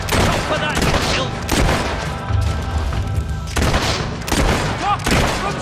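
Dense gunfire in Fable 3 during a chaotic battle, loud sustained volleys of shots and bangs running almost without pause, overlapping into a fusillade.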